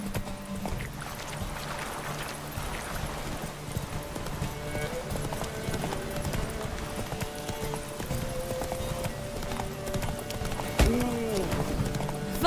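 Roach the horse from The Witcher 3 gallops with a steady rhythmic clip-clop of hooves. The hoofbeats run close and continuous under a game soundtrack, with a short whinny near the end.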